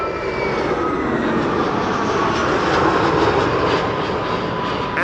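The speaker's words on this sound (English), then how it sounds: "the second Bombardier C Series 100 from ITA that we are going to see in this stream" ITA Airways Bombardier C Series 100 jet arriving at Amsterdam Schiphol on a sunny day, a steady broad engine roar holding loud and close throughout, with no voices.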